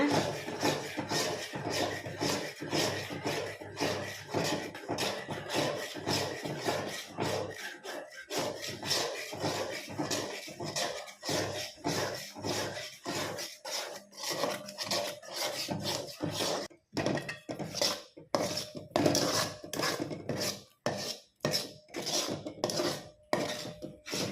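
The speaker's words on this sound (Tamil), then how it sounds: "அந்த கடலை மாவு நெய்யில் கரைச்சி வச்சதை இந்த ஜீனி பாகில் வந்து கலந்து விடுறேங்க" Gram flour dissolved in ghee being mixed into sugar syrup for Mysore pak, a Tamil sweet: continuous rapid scraping and rubbing of a utensil against the pan, close and busy, turning into choppier strokes near the end, with no talking.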